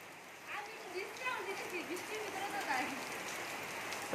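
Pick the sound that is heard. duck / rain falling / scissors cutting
rain falling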